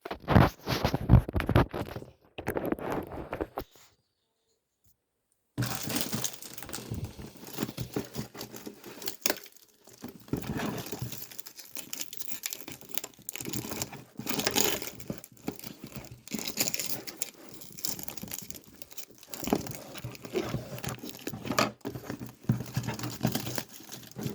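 A cardboard LEGO set box and its packaging are handled during an unboxing, with crinkling, rustling and tearing noises, a short silent gap early on, then steady close handling sounds with no talking.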